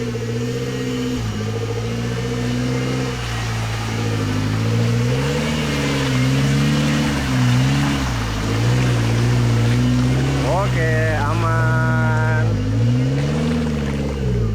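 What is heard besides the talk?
4x4 off-road car driving through deep water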